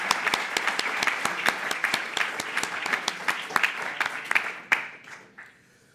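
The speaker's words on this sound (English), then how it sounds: "So I think we should give a big applause to the two" Audience applause for two speakers, Giovanni and Emilio, at a medical talk on stone disease: dense, loud clapping from a crowded room that thins out and fades near the end.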